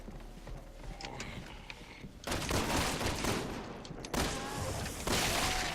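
Gunfire in Resident Evil 6 as a zombie takes a headshot, with loud broadband bursts at about 2.2, 4.1 and 5.3 seconds over a constant busy game soundscape.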